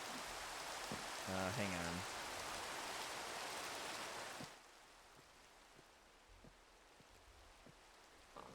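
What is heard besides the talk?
rain falling in Minecraft, from a video game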